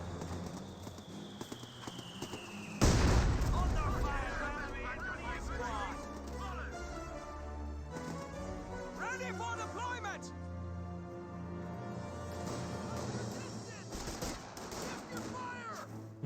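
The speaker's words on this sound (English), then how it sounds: "Mortar now taking a shot on these forces." Company of Heroes 2 battle sounds: a loud mortar blast at the start, then scattered machine gun fire and bursts of shooting over a rumbling background, with a commentator talking throughout.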